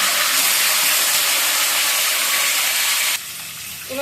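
Fenugreek seeds tempering in hot oil, a loud, close, continuous sizzling hiss that drops off abruptly near the end.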